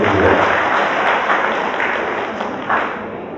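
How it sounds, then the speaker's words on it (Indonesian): Sustained applause from an assembled crowd of ladies and gentlemen, a broad, loud wash of clapping that fades slightly toward the end. "Tepuk tangan Bapak Ibu sekalian"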